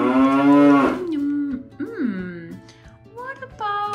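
A cow on a farm lets out a loud, close moo that slides down in pitch, followed by further shorter lowing calls, with a soft steady hum beneath.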